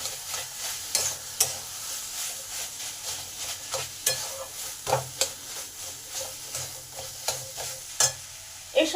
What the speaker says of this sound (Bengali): আলুটাকে মশলার সঙ্গে ভালো করে মিশিয়ে নেব